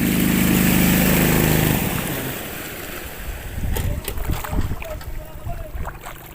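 A motorboat on a lake in Santa Rosa, Laguna, roars loudly and close for the first couple of seconds, then fades to a lower churning rumble with splashy water noise and some voices.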